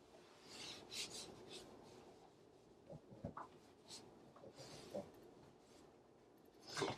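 Baking soda is scrubbed by hand over a marble countertop, making soft, faint, gritty rasping strokes in irregular bursts, with a louder rub at the very end.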